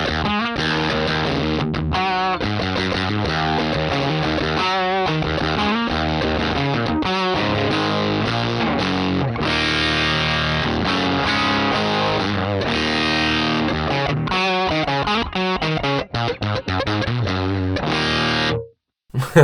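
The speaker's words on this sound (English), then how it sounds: "it's going to be a solid state overdrive." Electric guitar played through a solid-state overdrive amp capture, loud distorted chords and riffs running continuously and close, with a brief drop near the end before a last hit.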